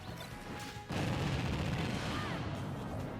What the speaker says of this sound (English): Full explosion.